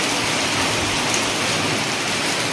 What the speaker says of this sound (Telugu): చూడండి అస్సలు వర్షం తగ్గట్లేదు